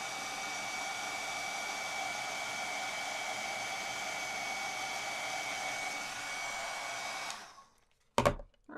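A heat tool blows steadily for about seven seconds, a loud even whoosh as it melts embossing powder on a snowflake greeting card, then cuts off, leaving a brief clatter and near silence.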